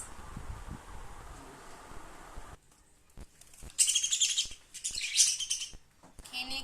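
Pet birds chirping while eating, sharp high tweets and squawks in quick bursts close by, following a stretch of faint fan-like hum.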